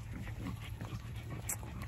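A dog breathing heavily and panting in rapid, steady rhythmic bursts, close and continuous for a couple of seconds, with no talk over it.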